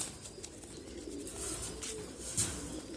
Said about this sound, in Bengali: এটা একটা মাদি কবুতর না?